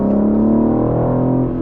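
BMW M4 engine holding a steady, rich harmonic drone close up, with its pitch easing slightly lower toward the end and no voices present.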